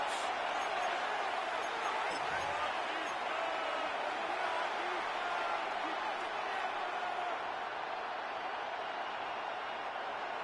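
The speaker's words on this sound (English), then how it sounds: "This crowd into it now." A dense, steady roar from the crowd in an EA Sports NFL football video game, running unbroken as a bright wash of cheering throughout.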